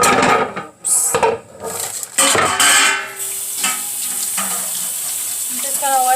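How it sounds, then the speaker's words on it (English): Water runs steadily from a tap while hands are washed at a kitchen sink, a continuous close hiss broken by a few splashes and light clinks of dishes and cutlery. "I'm just gonna wash my hands and be back."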